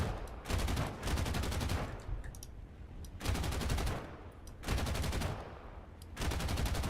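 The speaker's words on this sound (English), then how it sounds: "I have a lot of ammunition, so I can start firing." Aircraft cannons and machine guns firing in War Thunder during an air battle, four loud sustained bursts of rapid fire separated by short pauses over a steady engine drone.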